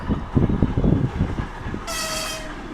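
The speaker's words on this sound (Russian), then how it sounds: "Пассажирский поездок" A passenger train rumbles past nearby with rhythmic clattering, then a sustained high horn blast near the end.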